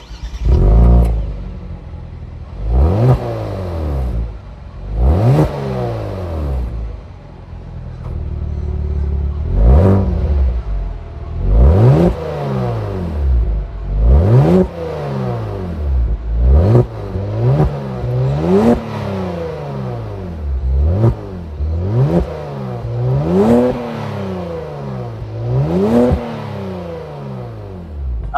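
Twin-turbo 3.3-liter engine of a 2023 Genesis G70 with active exhaust, revving repeatedly in sharp rising-and-falling sweeps, about a dozen loud blips heard close up with no talk.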